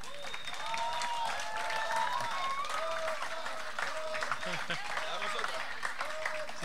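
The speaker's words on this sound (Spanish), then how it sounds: "Otro aplauso para él." An audience at the Barra del Colorado festival in Costa Rica applauds a singer-songwriter, a continuous faint wash of clapping with scattered cheers and voices throughout.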